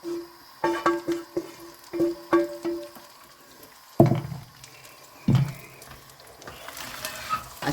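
A spoon stirs fried masala into minced meat keema, giving a series of scraping, clattering strokes with soft sizzling between them, then two heavier knocks against the pan, all without talk.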